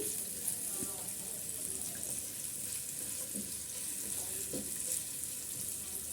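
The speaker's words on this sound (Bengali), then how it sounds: "অতটুকু পরিমাণ এই পেঁয়াজগুলো ভেজে নিচ্ছি" Onions softening in a pan for cauliflower pulao, a soft continuous hiss with occasional faint clinks and scrapes, fairly quiet and even throughout.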